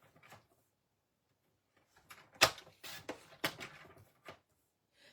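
Half-inch strips of designer series paper are cut with a paper trimmer, giving a few quiet, brief sliding and clacking strokes separated by pauses.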